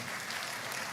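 Thunderous applause from a seated audience greeting the Speaker of Parliament at the launch of Ghana's National AI Strategy, a dense steady clatter of many hands held at constant loudness throughout.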